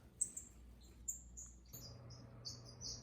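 Small finches and waxbills, including twinspots and parrot finches, give faint, thin high chirps and tweets scattered through an outdoor aviary, with soft steady background noise and no talking.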